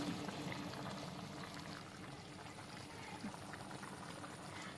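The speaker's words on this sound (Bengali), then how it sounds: "এটা দেখুন কত সুন্দর ফুটে গেছে" Chilli chicken gravy thickened with onions simmering in a pan on a home stove, giving a faint, steady bubbling hiss that carries on without break for several seconds, close by and quiet.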